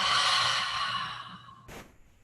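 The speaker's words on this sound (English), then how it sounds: "Strong inhale through the nose. Super loud exhale." A loud, long exhale during yoga breathing, a breathy sigh that gradually fades, followed by a brief short puff of breath near the end.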